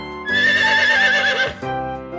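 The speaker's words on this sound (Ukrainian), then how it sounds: "А конячка іго-го." A horse whinnies loudly with a long wavering neigh lasting over a second, followed by a softer snort-like tail, with no talk, in a Ukrainian children's cartoon.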